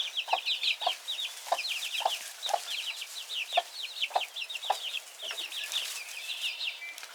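Chickens cluck on a perch in a repeating stream of short, throaty clucks. Higher squawky notes layer over them at moderate distance, with no talking.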